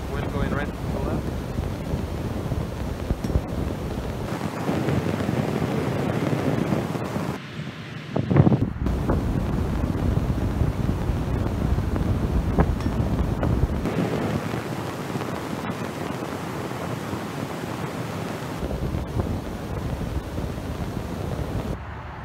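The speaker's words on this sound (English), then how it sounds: "Wind going right to the left." Wind blows across a football field, buffeting the microphone with a loud, continuous rushing roar that swells and eases for over twenty seconds, with only brief lulls.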